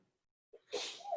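A single sneeze, preceded by a short sharp intake of breath, close and fairly loud, with brief vocal trailing at the end.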